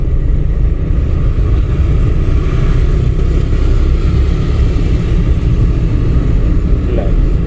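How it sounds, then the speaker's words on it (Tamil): A car in third gear during a driving lesson on a local road, with a steady, close engine rumble and cabin drone that holds evenly throughout. "வண்டி speed increase ஆகுதுங்களா? Same third gear."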